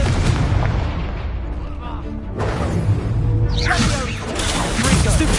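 Repeated booming blasts from a Confringo blasting spell in the Hogwarts Legacy video game, loud and continuous over layered game effects and music, with a sharp burst partway through.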